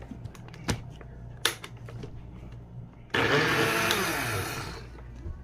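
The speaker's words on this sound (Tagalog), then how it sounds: "I-blender na po natin yan." A few light clicks and knocks, then a kitchen blender with water, moringa leaves and bitter melon switches on with a loud, whirring roar that runs steadily before easing slightly.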